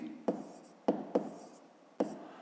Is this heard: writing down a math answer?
yes